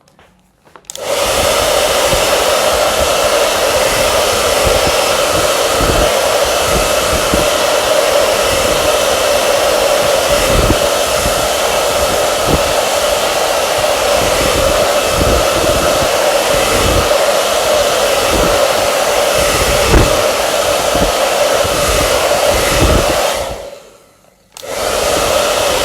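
Steady, loud hair dryer blowing continuously for about twenty-three seconds over a watercolour painting, starting and stopping abruptly with no talk.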